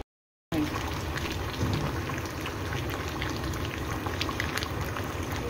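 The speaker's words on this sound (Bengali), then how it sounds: "এই হলো মাংস ফুটছে, পুরো কড়া ভর্তি" Meat bubbles and simmers in a full wok, a dense, continuous boiling crackle that holds steady and fairly close for several seconds.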